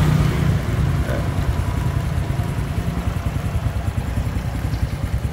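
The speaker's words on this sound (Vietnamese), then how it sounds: "Nãy giờ nổ máy là 10 mấy phút rồi nha anh em" A Honda Wave Thai 110 motorcycle engine idles steadily nearby after running for over ten minutes, a smooth, even low putter with a faint rhythmic pulse and no revving.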